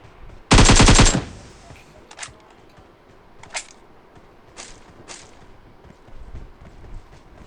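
Gunfire in a video game: one loud close burst of rapid shots, then several sharp isolated single shots spaced out over the following seconds, with faint background game ambience.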